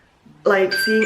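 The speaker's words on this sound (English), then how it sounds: "that's my alarm for the call" A phone alarm rings out, a bright tonal chime that cuts in loudly right after a bit of soft talk and carries on steadily to the end.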